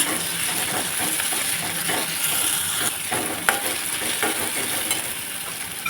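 Chopped tomato sautéing in a pan for an Indian home-cooking dish, a steady close sizzle and hiss with soft stirring scrapes and no one speaking.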